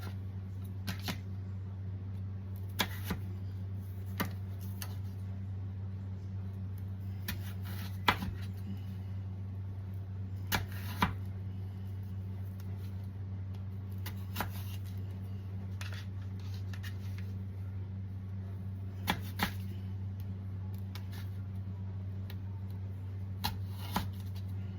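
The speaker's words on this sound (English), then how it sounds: "Take the potatoes," Knife chopping potatoes, halving them and then dicing them into small cubes on a board, with sharp, irregular taps scattered over a steady low hum and no talking.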